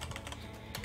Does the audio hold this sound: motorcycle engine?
no